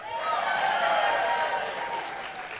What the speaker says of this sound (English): This is where you're supposed to cheer for me